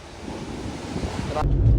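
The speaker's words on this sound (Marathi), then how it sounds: "लाटा आल्या बघ किती वरती पाणी उरतं" Sea waves surge and crash on a rocky shore at Ganpatipule, a loud roaring wash with strong wind buffeting the microphone, building into a heavier rush near the end.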